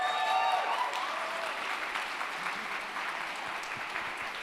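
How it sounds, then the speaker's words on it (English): Conference audience applauding volunteers, a steady wash of many hands clapping at moderate distance, fairly soft and sustained for a few seconds before tapering slightly. "Can we get a big round of applause for our volunteers real quick?"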